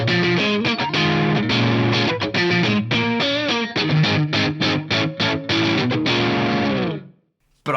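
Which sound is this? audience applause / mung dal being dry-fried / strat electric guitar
strat electric guitar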